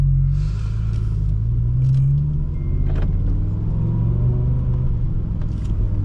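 A 2007 BMW M6 with its V10 engine drones at steady cruise from inside the cabin, a deep continuous low rumble with faint gear-shift shifts and road noise, no talking.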